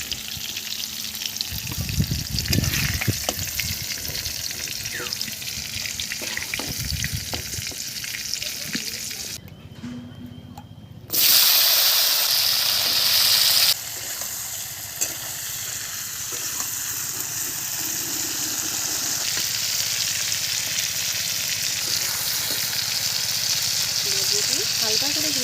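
Pumpkin and potato pieces frying in oil in a pan, a loud, continuous close sizzle with scraping and stirring. A brief hush drops in partway through before the frying hiss returns and carries on steadily.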